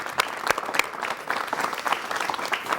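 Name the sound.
studio audience applause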